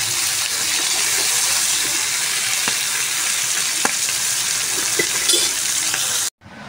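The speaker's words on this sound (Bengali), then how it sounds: "মাছটা নিয়ে ভেজে নিচ্ছি" Fish frying in a pan gives a steady, close sizzling hiss with occasional pops and faint stirring clicks, cutting off abruptly near the end, with no voices.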